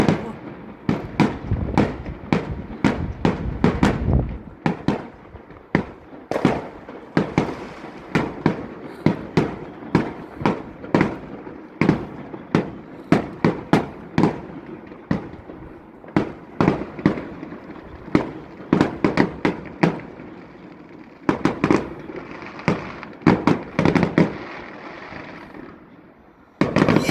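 Fireworks show with a dense, continuous run of sharp explosive bangs and crackling bursts, some fast volleys and some spaced pops, loud and reverberant outdoors, with faint voices of the crowd in places.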